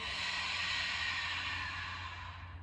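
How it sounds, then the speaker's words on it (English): A single soft, breathy exhale through the mouth during a yoga session, a quiet and close airy rush that fades out over a couple of seconds. "you're gonna inhale and exhale through your mouth"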